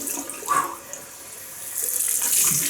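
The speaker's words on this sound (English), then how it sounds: "Cold water rinse." Cold water runs from a tap into a sink during a shave with a Gillette Superspeed Red Tip double-edge razor, a steady close hiss and splash that swells louder toward the end.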